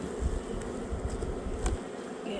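Honey bees from a late-season swarm being readied for winter buzz in a dense, continuous drone, close and steady with slight swells in loudness, no voices over it.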